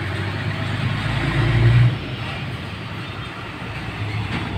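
A JAC vehicle's engine being started gives a low, close rumble that swells briefly, then settles into a steady drone, with no talk.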